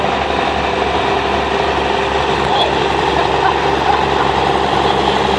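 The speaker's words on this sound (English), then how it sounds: "Next we have a 1951 Cockshut 40." A 1951 Cockshutt 40 antique tractor engine runs steadily throughout at an agricultural expo tractor parade, a constant mechanical drone with an even, unbroken rhythm.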